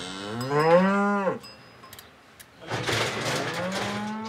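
Cattle on a farm, one of a herd of 112 cows due for injections, moo loudly close by: one long drawn-out moo, a short pause with light clatter, then a second lower, noisier moo.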